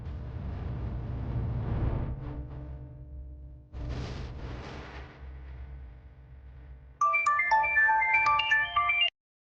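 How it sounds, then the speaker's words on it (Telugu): A phone ringtone plays a bright, repeating electronic melody for about two seconds and then stops abruptly. Quieter low rumbling sounds come before it. "madam phone"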